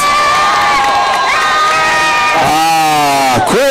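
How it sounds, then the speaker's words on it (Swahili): A crowd greeting a president, dense loud cheering and shouting with children's voices rising and falling, continuous throughout and ending in swooping high yells. "Makofi kwake rais."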